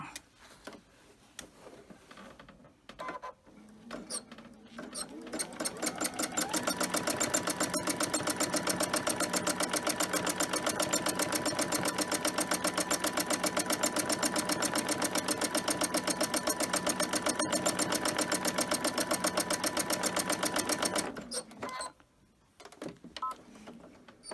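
A sewing machine doing free motion quilting on fabric for a bag runs in a long, steady, rapid burst of stitching for about fifteen seconds, starting up and stopping cleanly, with quiet pauses on either side.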